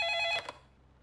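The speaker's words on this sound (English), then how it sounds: "Sharon, Maria's on the phone" A telephone bell rings in a cartoon household, a bright trilling electronic ring that stops abruptly after less than half a second, leaving quiet room tone.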